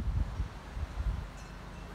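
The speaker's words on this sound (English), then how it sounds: "Right now it's a little bit windy." Wind gusts buffet a microphone outdoors in a Las Vegas garden beside a plum tree, producing low rumbling bursts and soft rustling with no speech.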